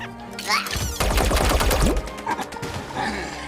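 Rapid bursts of gunfire ring out in the Mario + Rabbids Sparks of Hope video game, a loud rattling volley at close range over game effects and music.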